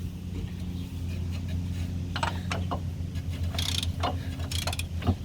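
Wheel hub assembly being tightened on a 2003 Chevy Trailblazer during a wheel bearing replacement, heard as a steady low mechanical hum with a few sharp metallic clicks and ratcheting bursts close by.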